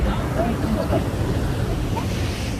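Steady ocean surf on a beach in Madeira washes in a continuous broad roar, with wind buffeting and faint distant voices mixed in.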